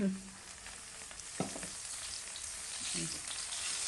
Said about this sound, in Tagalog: Para hindi tayo matalsikan pag magprito tayo ng bangus.